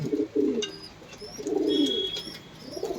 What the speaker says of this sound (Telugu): చూడండి పీజన్స్ అయితే చాలా ఉన్నాయి.